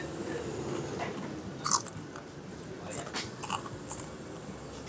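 Close crunchy bites into a crisp Indonesian fried snack (gorengan), with a sharp crunch and a few softer chewing crackles over a noisy background.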